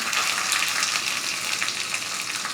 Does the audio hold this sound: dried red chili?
yes